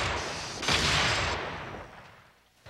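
Gunfire from a six-shooter revolver in a Western film street scene, a loud burst of shots blending into a dense, roaring volley that trails off over a couple of seconds.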